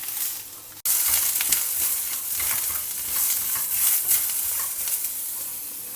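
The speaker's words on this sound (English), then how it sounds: "Again saute everything well together." Onions and tamarind sautéing in a pan, giving a steady close sizzle and hiss broken by soft stirring scrapes after a brief cut near the start, with no one speaking.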